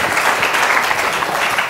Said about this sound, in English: if you'll join me in a quick round of applause